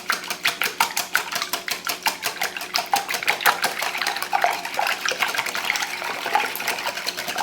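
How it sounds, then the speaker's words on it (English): Fresh eggs with bright orange yolks whisked by hand with milk in a bowl, a steady fast rhythm of wet clicking strokes, close and continuous throughout. "Now I'm going to beat these up for about 2 minutes."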